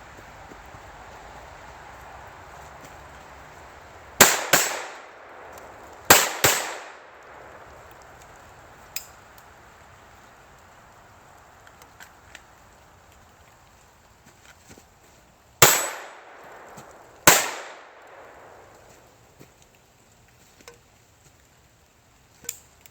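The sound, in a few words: pistol gunshots during a 180-degree turn transition drill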